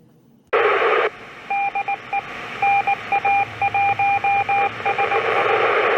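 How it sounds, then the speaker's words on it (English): Steady radio hiss carries a repeating pattern of clear beeps, short and long tones tapping out the International Space Station's amateur radio call sign NA1SS in Morse code, loud and continuous. "What you heard just now is the call sign of Eris NA1SS in Morse code."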